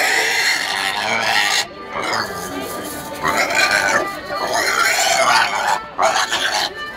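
A pig in Bagneux grunts and squeals in rough, bursting phrases with short pauses between them, loud and close, with people talking nearby.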